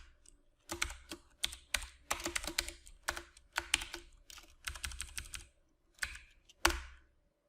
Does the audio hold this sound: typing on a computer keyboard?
yes